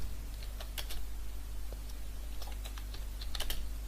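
Keys clack on a computer keyboard while a resume is typed, sparse and uneven keystrokes in small clusters over a low steady hum, with no voices.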